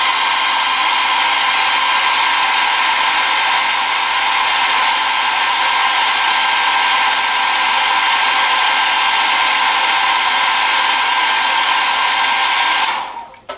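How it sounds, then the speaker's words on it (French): A hair dryer blows with a loud, steady high whine and rushing air for over twelve seconds, then cuts off abruptly at the end. "Un petit coup de sèche-cheveux."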